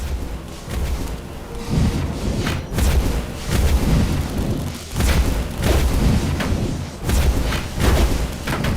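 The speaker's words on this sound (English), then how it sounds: "the dungeon heart is being attacked" Repeated heavy booms and thuds from the dungeon heart coming under attack in the strategy video game Dungeons 3, loud rumbling impacts recurring every second or so over a dense, continuous game soundscape.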